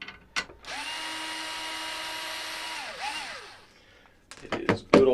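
A power screwdriver whirs steadily for a few seconds, winding down as it backs Phillips screws out of the metal case of an Audio2000s AMX7303 mixer, followed by a few sharp clicks and handling knocks.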